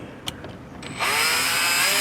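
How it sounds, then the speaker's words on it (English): A power drill with a 1/8 inch bit boring pilot holes during a 2023-2024 Volkswagen Golf R installation: a couple of light taps, then the drill spins up into a loud, steady high whine close by. "you're going to take a drill with a 1/8 inch drill bit"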